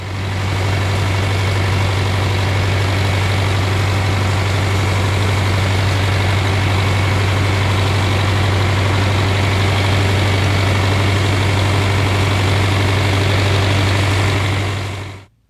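A heavy diesel tractor engine idles steadily and close by, a constant low throbbing hum with no voices, running unchanged for the whole stretch before cutting off.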